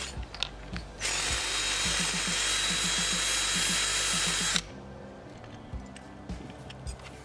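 A power drill boring a larger hole in hardware while building a portable satellite station, a loud steady whine lasting about three and a half seconds, with clicks and light handling noises before and after.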